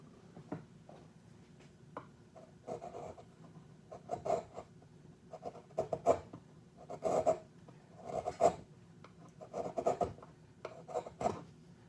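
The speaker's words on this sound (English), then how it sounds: "the Lee Nielsen chisel in this case is, in my opinion, doing a much better job of taking these shavings" Lie-Nielsen chisel paring end grain shavings from wood, a series of soft, close scraping and rasping strokes in an irregular rhythm, with no talking.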